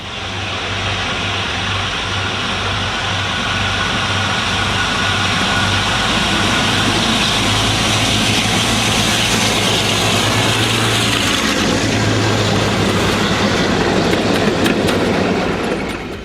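The steam locomotives Campaigner and Champion pound past at Roebuck Lane on the West Somerset Railway, a loud continuous rumble and exhaust roar with rhythmic wheel clatter building toward the end.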